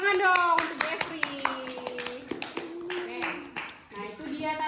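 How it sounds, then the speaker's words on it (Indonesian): Scattered audience clapping at an Indonesian educators' appreciation event, with individual claps popping out under a voice that talks loudly over them almost the whole time. "Tepuk tangan dong untuk Jeffrey."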